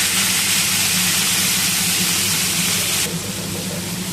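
Bottle gourd greens dropped into hot mustard oil with black cumin seeds, a steady loud close sizzle and hiss filling the space, easing slightly toward the end.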